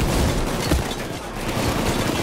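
Grenade blasts and gunfire in the heist shooter PayDay 2 fill a dense, loud, continuous wall of noise with booming bursts, close and sustained throughout.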